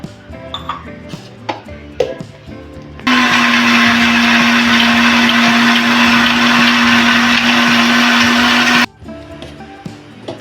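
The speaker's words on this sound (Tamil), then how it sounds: "இதில் 1 டம்ளர் தண்ணி ஊற்றி அரைச்சி எடுத்துகிட்டு வந்துடலாம்." A kitchen mixer grinder grinds grated coconut with water and cardamom. It gives a loud, steady whirring roar for about six seconds, with quieter clinks and handling noises before and after.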